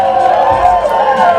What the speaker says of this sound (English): You see there, the crowd just appreciating Mr. Hickman